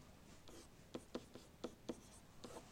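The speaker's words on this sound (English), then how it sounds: "So I'm going to write" A pen writes on paper while vector line equations are worked out, making soft scratching strokes with several quick taps, close but quiet, with no talking.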